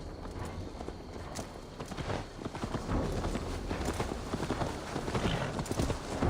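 Horse hooves clip-clopping in Assassin's Creed Valhalla, a steady close walking rhythm of hoofbeats that grows a little louder and quicker toward the end, with no voices over it.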